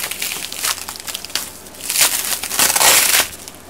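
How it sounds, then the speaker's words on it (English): Close, loud crinkling and crushing of sticky bubble wrap from a parcel comes in uneven bursts of crackle as it is handled. No one talks. "we got sticky bubble wrap. Gotta love that noise, right?"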